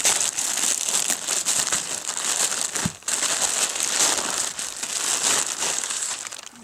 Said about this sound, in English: Alright, we're just going to tear this open.